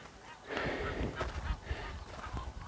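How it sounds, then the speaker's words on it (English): Flamingos at the Smartt Dam on the Ongers River give honking, goose-like calls in a loose chorus. The calls are faint and distant over a quiet outdoor background. "Now there in the distance, I hope you can hear them, are the flamingos."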